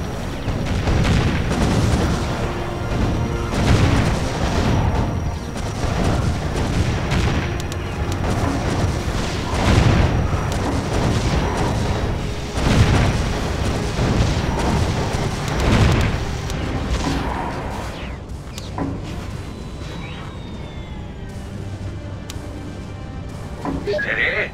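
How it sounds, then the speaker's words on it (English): Cannon towers fire in the tower-defense game Defense Grid: The Awakening, booming repeatedly amid a dense, continuous wash of game effects and battle noise, loud throughout with irregular heavy thuds. "I love the sound of cannons in the morning."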